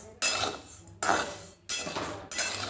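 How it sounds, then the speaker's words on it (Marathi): A homemade cerelac mix of grains is stirred and roasted in a pan, with a utensil scraping and clinking against the metal in several distinct strokes at close range. "हे बघा हे सगळं मी मिक्स केलं होतं आणि भाजून घेणार आहे"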